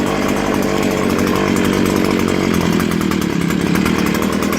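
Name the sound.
Stihl HS81T hedge trimmer engine running and warming up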